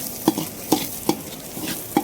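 A spoon stirs pepper, cumin and green chili masala frying in a pan for rasam, scraping in four evenly spaced strokes over a soft, steady sizzle.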